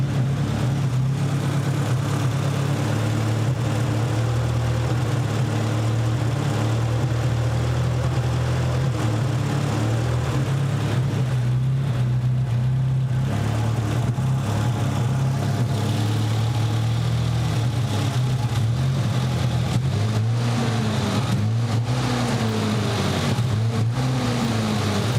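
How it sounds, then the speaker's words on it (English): Nissan 200SX turbo engine idling with an exhaust leak from a missing downpipe bolt behind the turbo, a loud, steady low rumble throughout with slight fluctuations in pitch, close and unbroken by talk. "one of the downpipe bolts is missing, so an exhaust leak off the backside of the turbo."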